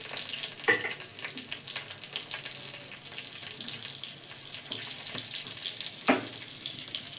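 Fennel seeds and two green chilies frying in hot oil in a pan, giving a steady, close sizzling hiss throughout with a couple of sharper pops or clinks and no talking.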